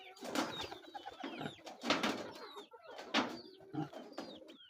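Pigeons coo softly in a loft, with several low, rolling calls repeating in a loose rhythm at close range.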